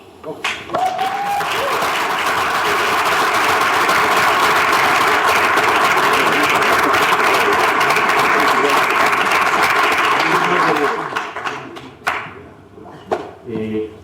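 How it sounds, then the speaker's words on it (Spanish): Loud, sustained applause from a seminar audience on systemic thinking and design, honouring Leonardo Cocha. It swells quickly, holds steady for about ten seconds, then breaks into scattered claps and fades. "Yo quiero un sonoro aplauso para el señor Leonardo Cocha."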